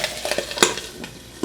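Water poured into a hot pan beside souffle pancake batter sizzles and steams, with a few spoon and pan clinks and a sharp hiss near the middle, close and moderately loud.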